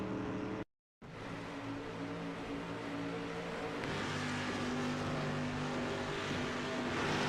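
Race cars in a sim racing game at Rockingham drone steadily with layered engine tones, a brief cutout early on, then a continuous, slightly louder engine roar from several cars.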